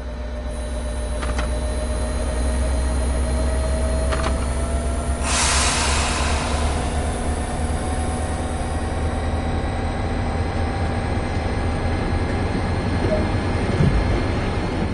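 An F40PH-2CAT diesel locomotive in Train Sim World 2020 idles with a steady low drone, a brief hiss of air releasing mid-way, and faint tonal whine as it begins to pull away.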